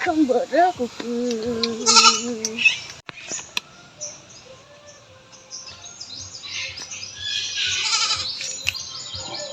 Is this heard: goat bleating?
yes